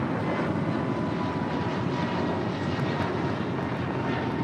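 Cayman Airways Boeing 737 MAX 8 taxiing at LAX, a steady, close jet engine roar with a broad rushing hiss that holds level without a break and no voices over it.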